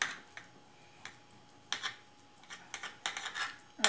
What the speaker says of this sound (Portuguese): Vou cortar aqui um pedacinho.